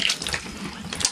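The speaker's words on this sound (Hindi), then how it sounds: "पैर से जितना प्रेशर दोगे उतना ही पानी आएगा बस।" Water gushes briefly from a foot-pedal tap in a short, steady splashing burst, fairly close and clear with no talking.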